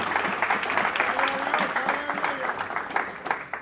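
A church congregation claps together in a quick, even rhythm, a near, lively burst of applause that carries on steadily with no talking over it.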